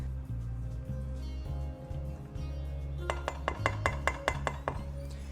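Whisking cocoa, flour, espresso powder and salt in a mixing bowl for Guinness brownies: after a steady low hum, a run of quick, bright metallic clinks of the whisk against the bowl takes up the second half, close and fairly loud.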